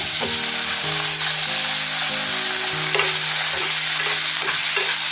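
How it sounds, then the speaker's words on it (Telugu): Tomato pieces fry in ghee with asafoetida in a loud, continuous hiss, with occasional stirring scrapes and a faint tonal hum underneath. No voices. "ముక్కలు మరీ మెత్తగా కాకుండా సాఫ్ట్గా అయ్యేంత వరకు ఇలా ఫ్రై చేసుకుందాం"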